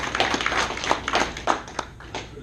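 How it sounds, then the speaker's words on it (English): A small group of people at a work meeting claps briefly, a sparse, uneven patter of individual claps that thins out and tapers off toward the end. "Give yourself a round of applause."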